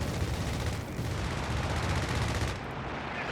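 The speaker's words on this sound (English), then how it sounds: "Good strafe against the armor." Air support strafing run on tanks in Company of Heroes 3, a dense continuous roar of rapid gunfire and explosions, loud and close for the whole stretch.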